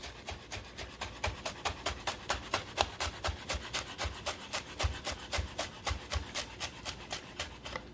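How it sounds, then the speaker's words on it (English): A kitchen knife slices rolled herb leaves into thin chiffonade strips on a board, making quick regular chopping taps at about three per second, close and steady with no talking. "I'm gonna do a big fancy cooking word, a chiffonade, where I roll it, and I cut it into little strips"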